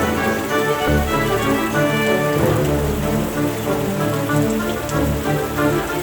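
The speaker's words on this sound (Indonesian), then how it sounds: "Hujan masih terus menari di atas bumi, mengalun lirih bagai nyanyian sunyi" Steady rain falls on the ground, a dense continuous patter, close and fairly loud, with no break for the whole stretch.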